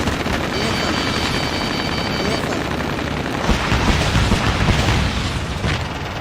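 A tank being destroyed in the Ace Combat Assault Horizon video game, with loud booming explosions and rapid gunfire over a steady roar of rotor and engine noise, a heavy blast landing midway through a dense, continuous battle.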